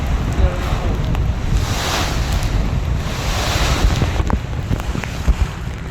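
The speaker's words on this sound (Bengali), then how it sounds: "আপনারা শুনতে পাচ্ছেন কি পরিমাণ এক একটা ঢেউ," Strong waves and gusting wind batter the Parabat 12 passenger launch on a Dhaka-to-Barishal river trip during a Kalbaishakhi storm with rain, a loud, continuous roar of surf and wind buffeting the microphone.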